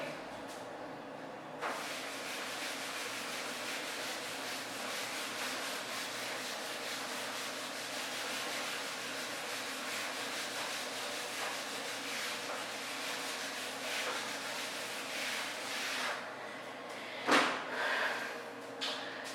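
A classroom board being rubbed clean with a duster, a steady continuous scrubbing hiss lasting nearly twenty seconds, close and even, ending with a couple of brief knocks and no talk.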